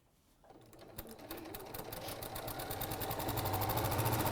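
A sewing machine stitches along a seam, running as a steady rapid mechanical whir that gradually speeds up and grows louder, close and alone.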